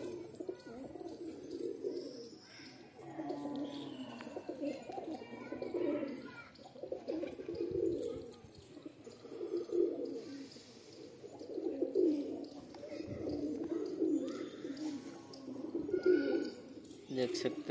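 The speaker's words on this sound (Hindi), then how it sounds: "दाना पानी खा के बच्चे को खिलाने जा रहे हैं कबूतर," Pet pigeons coo while pecking at feed and water, a soft, rhythmic run of repeated throaty coos rising and falling at close range throughout.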